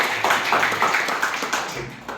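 A classroom of students claps together in a quick, uneven run of about eight bursts, fairly close, before the applause stops.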